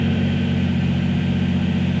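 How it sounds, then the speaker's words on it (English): A Lexus IS300 with failed timing idles while its cooling system is bled, giving a loud, steady, low engine drone that fills the space with no voices. "it's probably really hard to hear because the car's idling"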